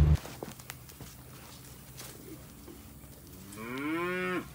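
Cattle in a catch pen on a farm: one long, loud, close moo swells near the end after a few seconds of quiet shuffling and scattered footsteps.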